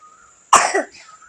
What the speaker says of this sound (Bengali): দেখো কাশি